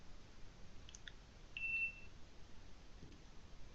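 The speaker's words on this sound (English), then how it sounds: "have the cashier scan straight from their phone" A short electronic beep from a barcode scanner reading a coupon off a phone screen at a store checkout, heard once against a faint background hiss with no talking.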